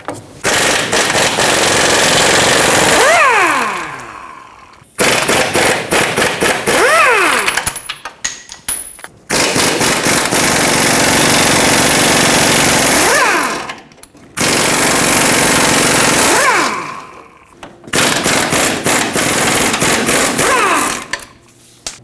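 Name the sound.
removing frame mounting bolts and nuts on Ford F-350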